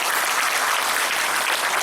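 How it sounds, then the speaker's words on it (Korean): Audience clapping for a city mayor at a public event, a dense, even burst of many hands applauding together, loud and continuous without talk. "시장님께 앞으로도 시민들을 위해서 더 열심히 일해주시라고 큰 박수 보내주십시오"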